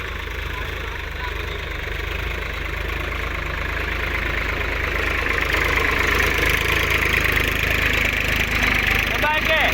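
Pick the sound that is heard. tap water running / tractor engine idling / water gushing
tractor engine idling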